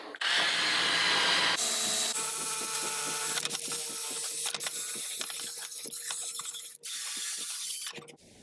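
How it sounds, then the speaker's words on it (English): Drill spinning a wire wheel against a Craftsman 100 table saw insert during restoration, a loud continuous whir and rough brushing scrape close by, with brief pauses and a steady rattling hum beneath. "So I'm going to hit it with the drill with the wire wheel one time."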